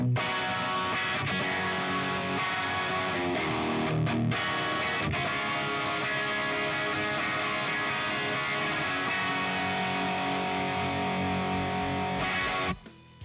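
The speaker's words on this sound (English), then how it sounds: "I'm gonna start using a Gibson Les Paul Standard." A distorted Gibson Les Paul Standard electric guitar plays through an amp with an ML Dizzy 4x12 cab, sustained chords and notes ringing loudly for several seconds, with brief pauses, before cutting off abruptly.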